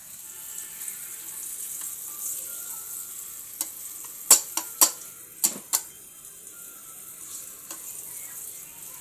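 Steady sizzling of eggs frying in hot oil, with a few sharp pops and clinks of a utensil in the middle.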